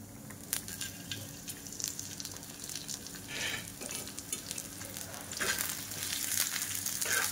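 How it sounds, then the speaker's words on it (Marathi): Onion frying in a pan for misal pav, with a steady sizzle and occasional stirring scrapes, close by, no talking. "आता कांदा भाजते मी"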